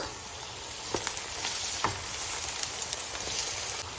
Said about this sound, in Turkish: kuru soğanlarımızı döküp pembeleşinceye kadar kavuruyoruz